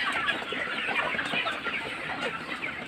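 Broiler chickens about a month and three weeks old cluck and chatter together just after feed is put out, a dense, continuous close-up flock sound with no talking.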